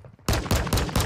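Gunfire in the Warzone 2 gulag, a game fight: after a quiet moment, a rapid burst of four or five loud, sharp shots in quick succession.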